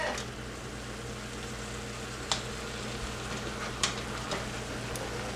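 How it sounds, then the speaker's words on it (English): Onions cooking in a pot for taco soup give off a steady, soft, even sizzle close by, with a few brief clicks and pops breaking through the constant crackle. "Let it cook for a little. Let the onions"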